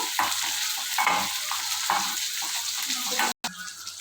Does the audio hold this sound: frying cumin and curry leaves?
yes